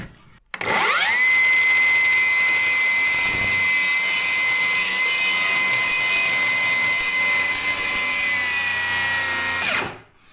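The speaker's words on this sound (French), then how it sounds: "on découpe le sommier" A small power saw spins up and cuts through a bed base continuously with a loud, steady high-pitched whine for several seconds, then winds down and stops.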